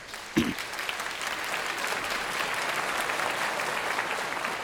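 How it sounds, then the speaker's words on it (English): An audience breaks into sustained applause, a dense wash of clapping that starts abruptly and holds steady throughout. "Let's give them a round of applause."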